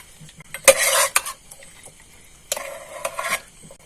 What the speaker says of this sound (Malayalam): ഇനി നമുക്കിത് നന്നായി മിക്സ് ചെയ്ത് ചെയ്തെടുക്കാം